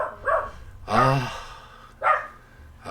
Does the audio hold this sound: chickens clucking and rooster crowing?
no